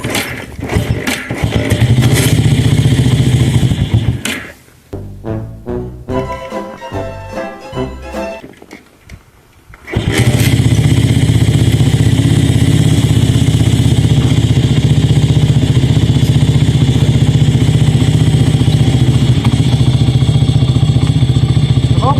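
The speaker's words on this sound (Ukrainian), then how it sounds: "Открываем камень, открываем подсос и заводим мотоцикл." A Spark SP125C-2AMW motorcycle engine runs loud, cuts out and sputters through a cranking start with the choke open, then catches and settles into a steady, close, rumbling idle.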